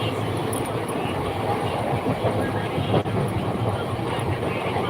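A moving passenger train in India between Katpadi and Jolarpettai gives a constant loud rumble and rattle, with a faint voice now and then.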